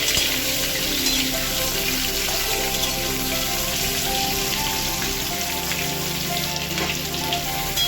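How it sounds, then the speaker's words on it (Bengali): Potatoes fry in hot oil in a wok for aloo dum, giving a steady, even sizzle and crackle that holds at a moderate level without pause and with no talking. "কড়াইতে তেলও তেতে গিয়েছে। এবার আলুগুলো একটু হালকা করে ভেজে নেওয়া হবে।"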